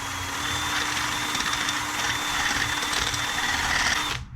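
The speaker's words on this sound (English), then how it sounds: "5/8 wood drill, I think it's called, like a special wood drill." A steady, high-pitched whine of a power drill with a 5/8 wood bit boring through wood, running continuously for several seconds before cutting off at the end.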